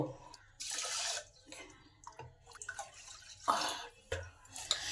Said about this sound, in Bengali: দুই বাটি চাল আছে তাই আট বাটি জল এতে দেবো